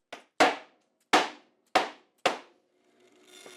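Five sharp hammer strikes driving a wooden blank onto a cut-off nail at an uneven pace, each ringing briefly, followed by a faint saw whirring that rises at the end.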